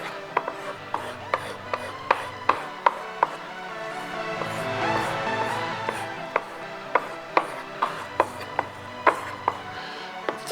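Steady back-and-forth rasping strokes of a custom-made kitchen knife worked across the coarse side of a sharpening stone, a regular rhythm of about a dozen sharp scraping hits over a soft continuous grind, close and moderately loud.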